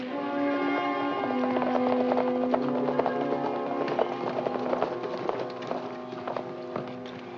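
Horses' hooves clip-clop at a steady walking rhythm, fairly close, with some jingling tack and a brief snort.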